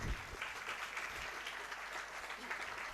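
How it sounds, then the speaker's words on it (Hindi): An audience at a Jain religious discourse by Vidhya Sagar Ji Maharaj claps in a steady, moderately distant applause that fills the whole moment without speech. "हमारी बात पर उन्होंने ताली बजा दी"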